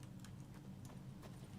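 Hooves of the horse Roach in The Witcher 3 clop in a steady, even rhythm, faint and close under a low ambient hum.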